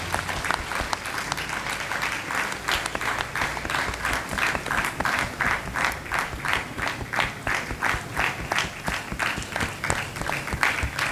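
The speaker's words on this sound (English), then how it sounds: "Can we have a huge round of applause, please?" An audience at a Guru Purnima celebration at a yoga university claps in a rhythmic, unified beat, loud and sustained for several seconds with no voices on top.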